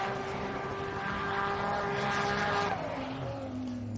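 Drift car with an RB20 engine revving hard at Pheasant Wood Circuit, NSW, a loud sustained engine drone with shifting pitch that drops toward the end, close and continuous.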